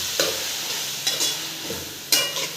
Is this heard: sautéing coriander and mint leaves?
yes